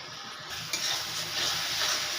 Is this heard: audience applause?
no